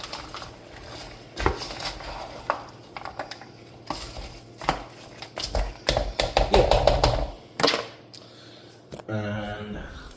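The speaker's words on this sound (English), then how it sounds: "the vegetables are still partially frozen, partially thawed. Just gonna stir them up." Partially frozen, partially thawed vegetables are stirred in a pan, giving irregular clacks and scrapes of a utensil against the pan, with a short burst of quick rattling and low background noise.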